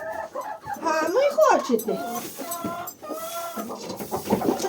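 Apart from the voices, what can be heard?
chickens clucking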